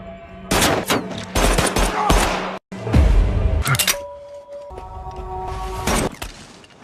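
Bursts of loud, rapid gunfire from robbers shooting at a car crack in clusters, separated by short pauses, with a droning engine hum underneath toward the end.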